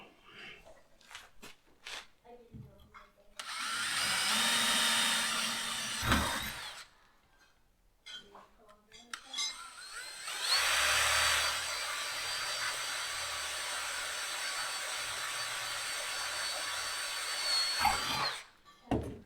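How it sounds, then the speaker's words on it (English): A small drill bores pilot holes into a metal part for a vehicle's rear clearance lights, running in two loud whining bursts of a few seconds each, separated by quiet handling clicks and brief knocks. "2 little pilot holes."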